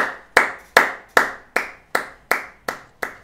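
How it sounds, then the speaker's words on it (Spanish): Nine sharp hand claps ring out at a steady, even rhythm, each crisp and close with a short echoing decay, and no talking underneath. "Un aplauso."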